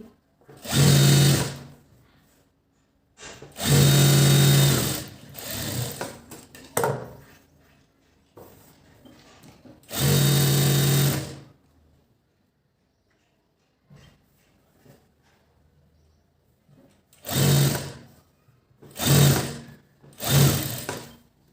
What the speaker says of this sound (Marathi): आता आपण कवर शिलाई म्हणजेच वरची टीप देणार आहोत